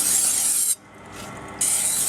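Knife blade stroked across a 600 grit sharpening stone, with loud close gritty scraping that stops briefly mid-clip and then resumes.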